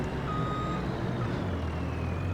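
Harvest truck with mechanical problems reversing on a Missouri farm in a farming game, with a steady diesel engine rumble and a thin, continuous reversing tone throughout.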